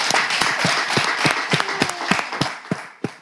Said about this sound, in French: On applaudit pour Kekeli.